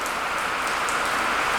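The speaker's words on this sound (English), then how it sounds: "and it started raining" Steady rain falling outdoors around a parked car, a continuous soft hiss of drops on surfaces with no talk.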